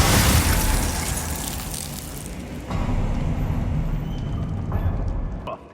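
A fiery Incendio spell bursts out in Hogwarts Legacy, a loud whooshing roar of flame that surges, dips briefly and swells again before cutting off, with no talk over it.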